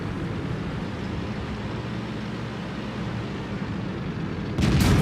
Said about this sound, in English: Here I bounce a shot from the CDC, quite a lucky bounce